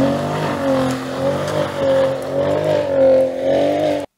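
Turbocharged V6 of an updated Ford F-150 Raptor off-road truck with upgraded exhaust, droning steadily and fairly loud with gentle rises and falls in revs before cutting off abruptly.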